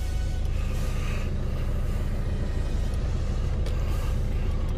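A BMW 3 Series E90 xDrive engine idles with a steady low rumbling drone, close and constant throughout, with a few faint breathy sounds on top.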